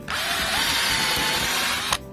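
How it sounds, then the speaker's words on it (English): A power drill boring a hole in a wooden plank for a homemade planter box: one sustained, loud, high whine lasting about two seconds, then cutting off abruptly. "drill the two holes at the bottom"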